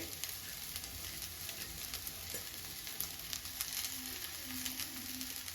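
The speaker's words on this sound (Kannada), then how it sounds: "ಸೊ ಇವಾಗ ಬಾಯ್ಲ್ಡ್ ರೈಸ್ ಹಾಕೊಳ್ತಾ ಇದ್ದೀನಿ ಡೈರೆಕ್ಟಾಗಿ" Boiled rice tipped straight into a hot pan for veg fried rice, giving a steady close sizzle and frying hiss with faint stirring scrapes.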